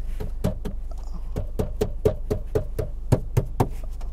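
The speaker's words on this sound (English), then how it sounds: "There's lots of rattling and creaking and hard plastic." Sharp, irregular knocks and rattles from the hard plastic interior of an R53 Mini Cooper on the move, a quick series of close ticks and clunks over a low road rumble.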